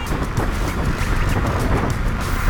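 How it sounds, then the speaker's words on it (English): A strong headwind rushes at a rider on a Nanrobot D6+ dual-motor electric scooter under full acceleration. Loud, unbroken buffeting roars right at the microphone. "I've got a bit of a headwind. A lot of a headwind."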